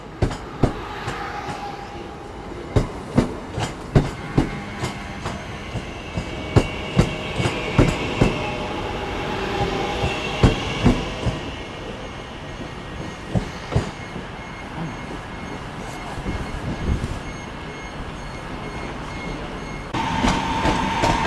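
A train runs through Manchester Piccadilly station with repeated loud clacks of wheels over rail joints and a continuous rolling rumble. Faint squeals come near the end.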